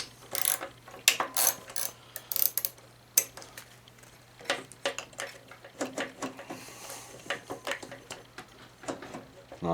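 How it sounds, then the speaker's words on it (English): A wrench ratchets in short, uneven bursts of clicking while loosening the bolts on the ignition coil of a Craftsman push mower, close and fairly loud over a faint steady hum. "You just loosen the bolts on the coil."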